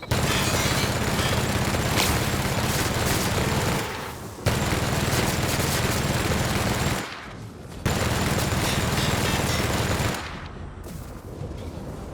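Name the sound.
gunfire in the video game The Outer Worlds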